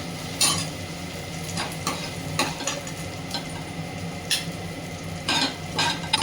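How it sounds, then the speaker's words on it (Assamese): Small pieces of fish deep-frying in oil in a large kadai give a steady crackling sizzle, broken by scraping stirs and occasional metallic clinks of a utensil against the pan. "এয়া মই মাছখিনিও ভাজি গৈ আছোঁ"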